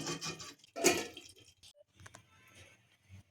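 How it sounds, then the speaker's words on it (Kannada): Water for ghee rice bubbling and popping in a pot, with irregular soft bursts and gurgles at close range, fairly quiet, no one speaking. "ಈಗ ನೀರೆಲ್ಲ ಮಳ್ತಾ ಇದೆ"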